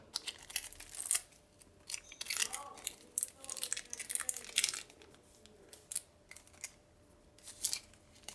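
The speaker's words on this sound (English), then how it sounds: "Scissors to the rescue." Scissors snip and crunch through the plastic of a Webkinz plush package, a series of sharp close cuts and crinkles spaced irregularly.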